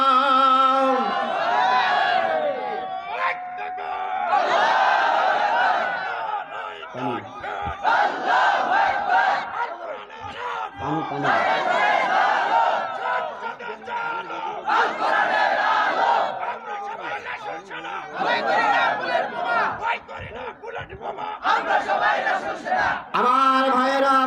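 A large crowd chanting takbir (Allahu Akbar) in loud, repeated unison roars, each call swelling and fading in a steady rhythm over the full span.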